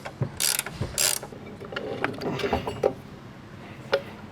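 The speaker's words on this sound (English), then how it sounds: "is an 18 millimeter ratcheting wrench. So go ahead and just ratchet these off." An 18 mm ratcheting wrench backs nuts off a 2022 Chevy Trail Boss during a lift kit install, with quick bursts of ratchet clicks followed by scattered metallic clinks and taps, close by and without talk.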